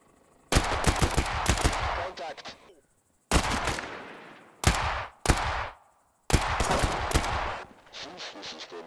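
Automatic gunfire from the video game Thunder Tier One crackles in several sharp bursts separated by brief silences, loud and close with rapid repeated shots in each burst.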